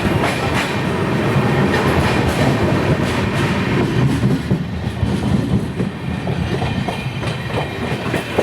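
Mumbai Hyderabad SF Express (22732) rolling along the line between Mumbai and Pune, with a steady loud rumble and rhythmic clickety-clack of wagon wheels over rail joints, continuous throughout.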